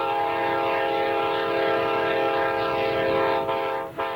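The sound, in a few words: eastbound Coast Starlight passenger train on the coastline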